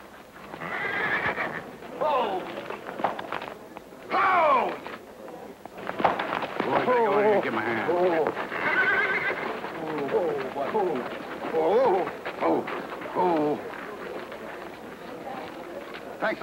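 Horses whinny and neigh repeatedly in a Western setting, loud, close calls rising and falling over a steady clip-clop of hooves, with brief gaps between the cries.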